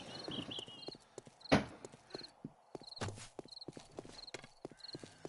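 Galloping deer hooves in the survival video game 7 Days to Die, an uneven run of hoof clops punctuated by a loud sharp thud and faint high tones, close and fairly loud, with no talking.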